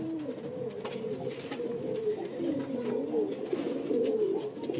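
Highflyer pigeons coo steadily and close up, a continuous layered warbling of several birds with no talk over it.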